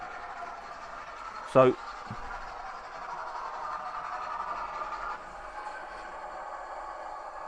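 A Hornby Scotsman model locomotive running on track hums steadily, then stops abruptly, with a brief clatter marking the halt; someone says a word at that moment.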